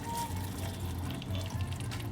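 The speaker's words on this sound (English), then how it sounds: "I'm going to be adding a little bit of water" A small amount of water trickles into a pot of vegetable biryani mix with yogurt, a steady soft pour under a low, constant background hum.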